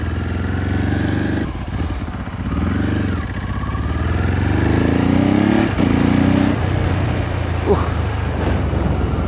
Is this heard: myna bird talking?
no